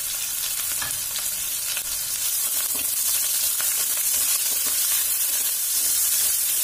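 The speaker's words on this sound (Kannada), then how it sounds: "ಈರುಳ್ಳಿ ಹಾಕ್ಕೊಂಡು ಸ್ವಲ್ಪ ಚೆನ್ನಾಗಿ ಅದನ್ನು ಫ್ರೈ ಮಾಡ್ಕೊಳ್ಳೋಣ." Onions with cardamom frying in hot oil for a fenugreek pulao, a loud, continuous, even sizzle with faint stirring scrapes underneath and no talking.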